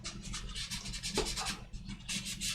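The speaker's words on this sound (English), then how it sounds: "now I just hopefully rub that" A small stiff rubbing stroke scrapes paint off the grille of a 1/35 Airfix Cromwell Mk IV scale model tank, making a close, soft rasping scratch repeated for a couple of seconds.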